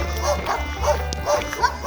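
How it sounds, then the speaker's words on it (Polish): Dogs barking and yipping at a village property, several short barks repeating in bursts over a steady low rumble, with a faint voice in the background. "Ale dzisiaj te psy jakoś mniej atakują."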